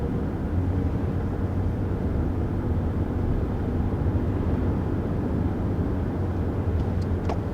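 Cabin noise inside a 2021 Toyota Highlander Platinum SUV cruising at about 55 mph on the highway: an even, muffled rumble of road and wind noise, constant and fairly quiet, with no talking.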